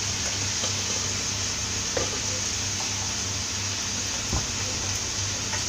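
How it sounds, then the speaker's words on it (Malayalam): Green tomato stir fry with turmeric is stirred in a pan, giving a steady sizzling hiss broken by a few soft scraping taps of the spoon. "ഒന്ന് ഇളക്കി കൊടുക്കും."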